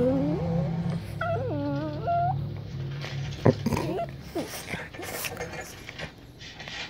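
Two Yorkie dogs play-fight close by, letting out whiny yelps, squeaky growls and snuffling noises in short bursts, while a person talks over them.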